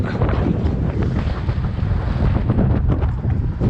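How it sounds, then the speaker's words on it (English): Strong, steady wind roars and buffets the microphone throughout, loud and continuous with no voices. "It is so windy today."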